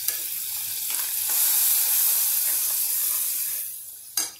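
Masala for cowpea curry sizzling loudly in a pan as a little water goes in, a dense steam hiss that swells, holds, then eases, with a sharp burst of spitting near the end; no talking.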